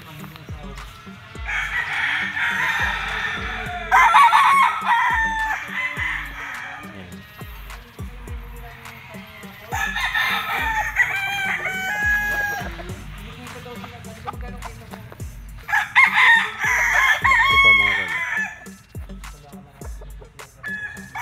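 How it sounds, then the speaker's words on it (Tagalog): Several gamefowl roosters of round-head and straight-comb types crow repeatedly in loud bursts at a farm, with long calls overlapping and clucks and other bird sounds between them. "Konti na lang yung mga manok ni Don Ramon dito, mga tol"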